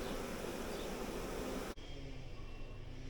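Honey bee swarm gathered at a nuc box at sunset, a dense continuous buzzing hum, close and steady, that cuts abruptly to a quieter, sparser buzz of a few bees partway through.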